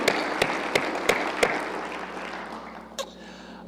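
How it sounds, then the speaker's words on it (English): Applause from an audience at a university spring semester opening session for new employees, with sharp clap peaks early that fade into a steady, thinning patter before a few final isolated claps. "one more round of applause for all of our new employees"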